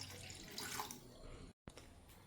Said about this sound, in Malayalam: അത് ഈ ഒരു ഗ്ലാസ് വെള്ളം ഞാൻ ഇതിലേക്ക് ഒഴിക്കുന്നുണ്ട്.